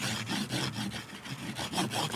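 Green polishing rouge, a wax and abrasive compound, rubbed like a crayon onto an MDF wood strop, giving a close, quick rhythmic scrubbing with short back-and-forth strokes.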